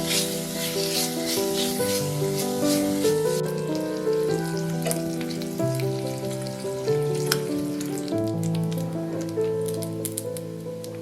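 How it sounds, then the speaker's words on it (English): Bacon sizzles and fries steadily in a large saucepan over medium heat, a continuous close crackle with a music bed running underneath throughout. "in a large saucepan over medium heat, cook the bacon until it's golden and just starting to crisp"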